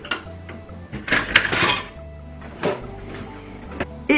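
A plate set into a dishwasher in The Sims video game: a close clatter of dishes and cutlery clinks, a brief burst of clanking and a few lighter taps afterward, with no voices.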